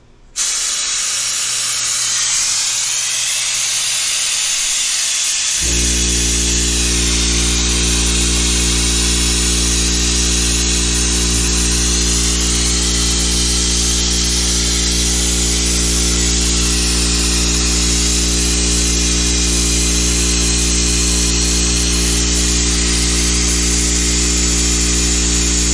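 An air compressor kicks on after a few seconds of quieter hiss and runs loud and steady, a constant droning hum with broadband hiss filling the rest of the time, heard during a Camaro SS brake fluid change.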